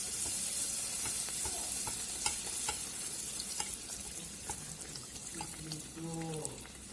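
Wheat flour puris fry in oil, bubbling and sizzling steadily with scattered ticks and taps of handling, while a voice talks briefly under the frying.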